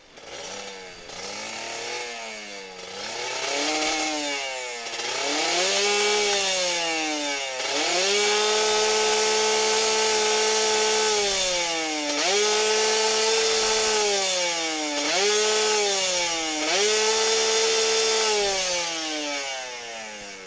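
A two-stroke Kawasaki Ninja RR 150 motorcycle engine revs and sputters repeatedly, rising and falling in pitch, loud and close with no voices.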